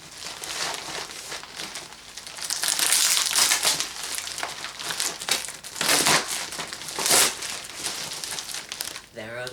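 Plastic shipping bags from an online clothing order crinkle and crush loudly as they are handled and opened, a continuous rustling with sharper bursts, while a person talks over it.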